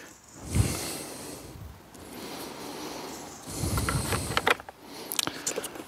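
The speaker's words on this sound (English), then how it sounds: "So let's get some screws into there." Screws are driven into a bracket on a 150 bar pressure washer, giving a few bursts of whirring and ratcheting mechanical rasps with brief pauses between them and some sharp clicks near the end, all close and without speech.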